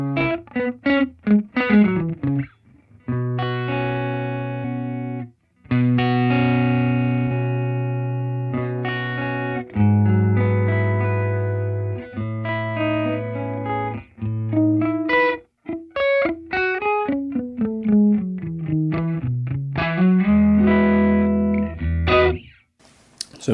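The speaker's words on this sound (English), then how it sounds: "If you set them to about 0 and 39 milliseconds, you get this effect." Electric guitar through a Line 6 Pod GO with two delays set to roughly 0 and 39 milliseconds, producing a wide, doubled stereo sound. Melodic lines and held chords play close and fairly loud, with no talking.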